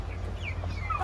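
Chickens cluck softly and steadily nearby in their pen, with a low background hum and no talking.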